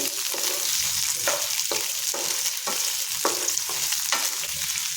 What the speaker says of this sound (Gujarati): ડુંગળી નાખીશું ને કેપ્સિકમ નાખીશું અને આપણે બે મિનિટ માટે સાતળી લઈશું